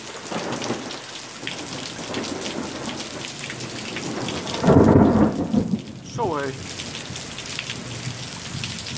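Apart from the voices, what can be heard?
heavy thunderstorm with thunder and rain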